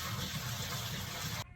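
Water pours and gushes steadily from a bowl of soaked walnuts as it is drained, a close, continuous splashing flow that stops abruptly at the end.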